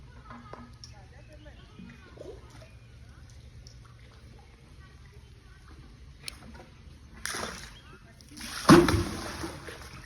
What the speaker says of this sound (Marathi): पाणी काढालोय बघा आम्ही